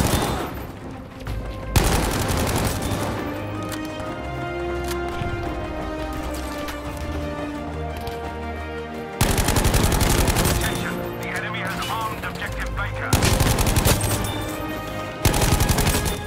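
A Sturmgewehr 1-5 rifle fires in Battlefield 5, dense bursts of gunfire with brief pauses between them, loud and close amid a chaotic battle din.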